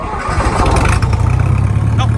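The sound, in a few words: John Deere 2010 tractor engine starting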